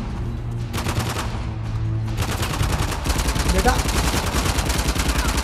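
Video game gunfire in Uncharted: The Lost Legacy, rapid automatic bursts that build into dense, loud sustained shooting, with a voice speaking briefly over it.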